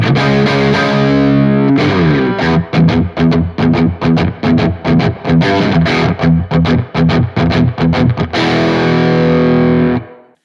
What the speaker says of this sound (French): un crunch basique